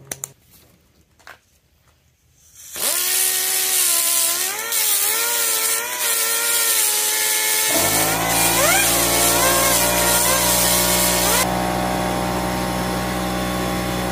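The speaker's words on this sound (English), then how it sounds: "I'll hit it with a grinder" A loud, steady power grinder whines continuously on metal of a 1958 Cushman Eagle, its pitch wavering as it bites, after a few quiet moments at the start.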